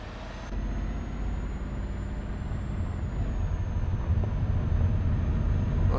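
Steady low drone of a Volvo truck engine in Euro Truck Simulator 2, hauling a heavy load behind a Scania, with a faint high whine running throughout and no talk.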